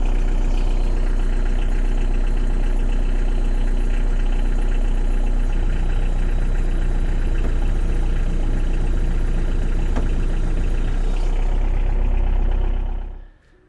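A Sherp amphibious ATV engine idles in first gear during repair of its front sprocket tensioner, a loud, steady, close diesel rumble with mechanical knocking that holds for about thirteen seconds before cutting off abruptly.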